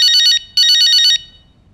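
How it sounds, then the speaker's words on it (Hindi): Two bursts of an electronic telephone ring, loud and close, separated by a short gap, then fading into a quiet room in a classic Pakistani television comedy sitcom. "फोन आया भाई, उठा गया।"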